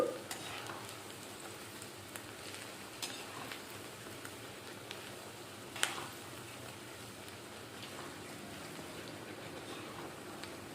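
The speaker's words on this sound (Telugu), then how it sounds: "ఇలా బ్రౌన్ కలర్ వచ్చే వరకు వేయించుకోవాలి ఆయిల్ పోసుకొని మూడు ఉల్లిపాయలు ఇలా కోసుకుని వేసుకున్నాను" Three sliced onions sizzle in hot oil in a pan as they brown for an Andhra-style mutton tripe and raw mango curry, a faint, steady crackle close by with a few soft stirring knocks.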